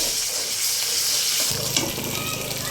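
A paste of ground cumin, ginger, garlic and coriander sizzles in hot oil for potato curry (aloo dum), a steady close hiss that grows denser and louder partway through, with no voices.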